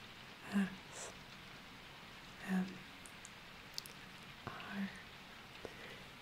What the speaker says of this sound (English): Did I mention the rain in the background? I love rain.